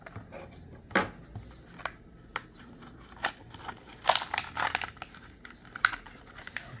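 A Hot Wheels Lamborghini Miura SV toy car package being opened, with scattered crinkles, snips and tearing of plastic and cardboard, close and fairly quiet with pauses between bursts.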